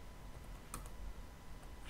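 A few faint key clicks from a computer keyboard as a command is typed in a terminal, set against a steady background hiss, with no voices.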